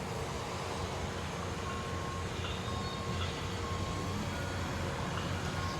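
Steady reversing beeps from a dump truck at a construction site ring out in a regular repeating pattern over constant engine rumble and site noise, with no talking.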